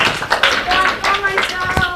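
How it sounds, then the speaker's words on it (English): An audience claps for the second-place winners at a community education robotics competition, an uneven patter of hand claps under continuous talking. "Let's give a round of applause"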